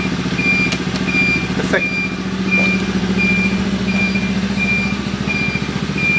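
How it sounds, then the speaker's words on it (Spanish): Turn signal indicators on a Chinese 110cc four-stroke buggy tick in a steady repeating beep pattern over the engine idling close by, with someone speaking briefly. "Intermitente de un lado, intermitente del otro."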